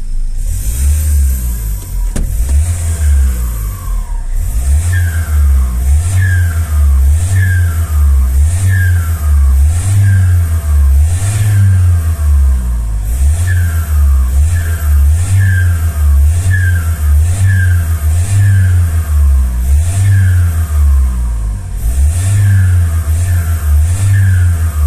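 A Renault Master van's engine revs repeatedly while driving, loud and close, with steady rhythmic rising and falling surges of engine tone through the whole stretch.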